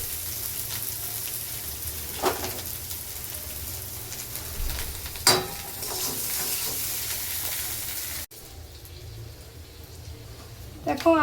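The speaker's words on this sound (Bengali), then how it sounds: "দেখো আলু আর পেঁয়াজ তো ভাজা হয়ে গেছে" Potatoes and onions frying in oil in a kadai for chicken biryani, a dense continuous sizzle with occasional stirring clatters and a sudden drop in level partway through, while a person talks over it.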